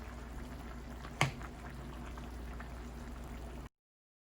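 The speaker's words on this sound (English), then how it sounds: "Now we are just going to let it cook in its own waters and let the liquids dry." Beef karahi simmers in its own juices in a pan, a low steady bubbling with one brief sharp knock near the start.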